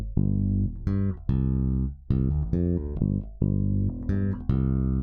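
A Sterling Ray 34 bass guitar plays a phrase of deep, sustained notes, each ringing out before the next, close and loud with no voices.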